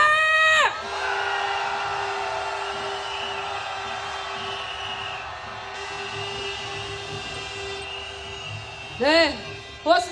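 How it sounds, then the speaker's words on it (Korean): A crowd at a candlelight rally march in Korea raises a loud, sustained collective shout of victory, a continuous roar of many voices that fades near the end, with brief whoops and a short burst of shouting at the close. "이번에는 우리가 이길 거라는 승리의 함성을 질러보겠습니다."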